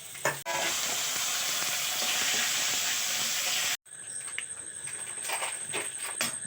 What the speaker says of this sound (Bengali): তেল দিলাম, কালো জিরে ফোড়ন দিচ্ছি